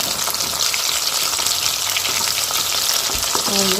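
Chicken 65 pieces frying in hot oil, with a loud, dense, continuous sizzle close by and a brief stirring clatter near the end.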